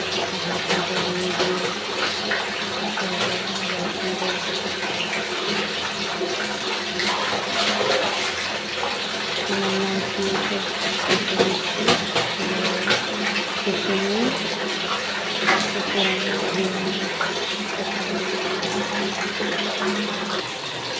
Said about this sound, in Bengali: কাপড়গুলোকে একবার ধুয়ে নিচ্ছি, একটু সাবান আছে, নির্মা আছে, তাই আবার একটু কাপড়গুলো জল পাল্টে আবার ধুয়ে